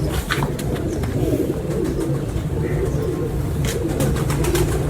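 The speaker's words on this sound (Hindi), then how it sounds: "ये जी उस्ताद मुला नदीम साहब के घर के टैडी कबूतर आपको शौक करवाने लगे हैं" Teddy breed pigeons coo steadily at close range, with low, rolling calls that repeat throughout. Scattered faint chirps and clicks sound over a constant background hum.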